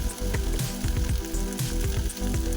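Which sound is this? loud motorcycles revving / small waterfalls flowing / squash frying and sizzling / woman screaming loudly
squash frying and sizzling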